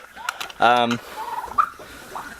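Turkeys gobbling close by: one loud rattling gobble burst in the middle, with shorter bird calls and chirps before and after over quiet background.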